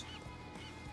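A seagull cry in the video game Watch Dogs 2: harsh honking calls, about three short squawks over a steady ambient game background, moderately faint.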